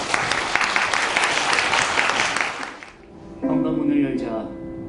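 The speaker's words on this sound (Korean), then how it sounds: "박수로 맞아주십시오" An audience at a literary concert applauds to welcome a reading performance, loud dense clapping that fades out after about three seconds, followed by a quieter stretch with a voice or tonal sound.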